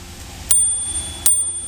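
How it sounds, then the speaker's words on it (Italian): The small bell on a DYU T1 folding electric bike rings twice about three quarters of a second apart, each ring a sharp close strike followed by a bright sustained tone in a quiet setting. "E poi c'è un piccolo campanello."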